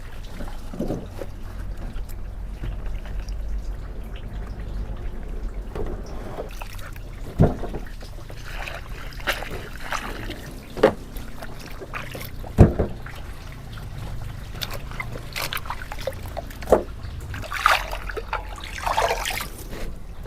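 Fresh vegetables being rinsed in water for a Cambodian steamed fish dish, a steady close splashing and trickling broken by a few sharp clacks of handling, with no talk.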